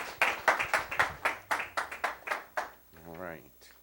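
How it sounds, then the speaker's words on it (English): A small audience at a tech and business bootcamp claps for speaker Scott, about a dozen distinct, fairly close hand claps in an uneven rhythm, followed by a brief voice. "So let's give a round of applause to Scott for speaking to us today."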